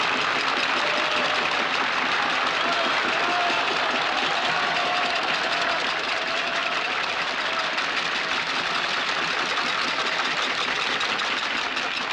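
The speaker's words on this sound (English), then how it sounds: "Applause is good to hear anywhere, but nowhere in the world so good as in Vienna" A Vienna concert hall audience gives sustained, dense applause, a steady roar of many hands clapping that holds at an even level for over twelve seconds.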